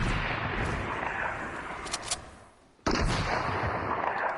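Gunfire in the video game Fortnite, a sustained rattle of rapid shots under a noisy game soundscape, with a brief drop before the firing resumes.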